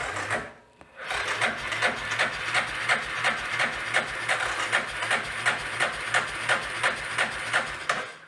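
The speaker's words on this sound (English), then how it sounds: "let's crank her over and see what we get here" The engine of a Yamaha Big Bear ATV cranks over on the starter in a steady, rhythmic churn of repeated chugs, close and moderately loud, after a brief pause at the start.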